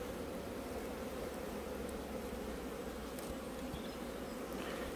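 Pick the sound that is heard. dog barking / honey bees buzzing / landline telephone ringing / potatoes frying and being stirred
honey bees buzzing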